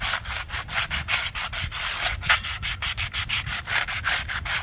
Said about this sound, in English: So we will start off with sanding down the panels first,